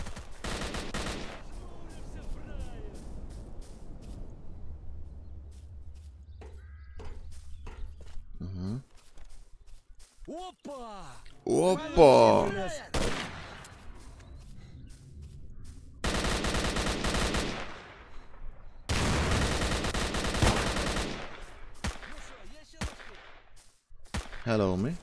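Bursts of automatic gunfire in STALKER Call of Pripyat (Complete Mod), arriving in several loud sustained volleys with quieter stretches between, alongside in-game sounds.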